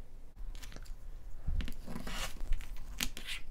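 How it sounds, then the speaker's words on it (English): Quilting fabric is trimmed with a cutting tool, giving a series of close, crisp tearing and crunching strokes in uneven bursts, fairly quiet with no voices. "I'm going to trim the very edge and make a clean cut"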